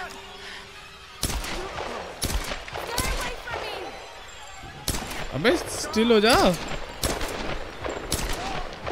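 Bursts of gunfire in the Tomb Raider video game ring out in repeated sharp volleys, mixed with warbling game effects while someone talks over the shots.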